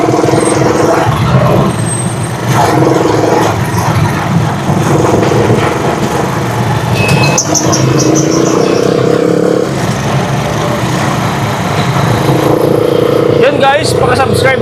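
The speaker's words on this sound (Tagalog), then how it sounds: "Uy, traffic." Busy street traffic with cars, trucks and motorcycles passing close by, engines droning continuously, a brief high whine and a horn-like tone partway through, with faint voices underneath.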